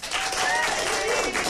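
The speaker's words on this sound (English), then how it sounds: "I'm going to go by the loudest applause." A studio audience at a Christmas TV chat show claps and cheers loudly in a brief, dense burst of applause to vote for a Christmas jumper, with no speech over it.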